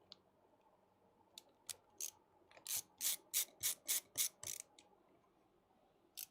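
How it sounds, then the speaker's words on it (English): Screws going back into a PC case during a gaming PC build or repair: a run of sharp ratcheting clicks, scattered at first, then a steady burst of about eight loud, evenly spaced turns up close before it fades to quiet. "And then we just put our 4 screws back in."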